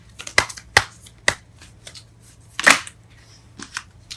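Tarot cards being shuffled and drawn: a handful of crisp, close card snaps and slaps at irregular intervals, with quiet pauses between them and no talking.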